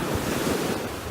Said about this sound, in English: the waves are really coming in